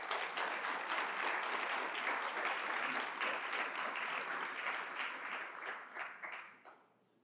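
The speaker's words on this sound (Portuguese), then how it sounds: "Aplauda o Senhor." Church congregation applauding together during a worship service, a steady, moderately distant wash of clapping that holds for several seconds and tapers off at the end.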